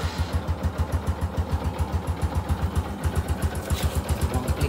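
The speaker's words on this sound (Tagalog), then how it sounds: "Sa tunog ng makina niya, tahimik pa rin" A Kawasaki CT150 motorcycle engine with sidecar idles close by with a rapid, steady putter, running evenly and fairly loud throughout.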